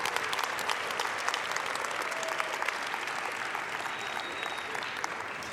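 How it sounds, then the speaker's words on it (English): An audience at a Martin Luther King Jr. celebration event gives a warm, sustained round of applause, many hands clapping close together at a fairly even level for several seconds. "Can we just give him another round of applause?"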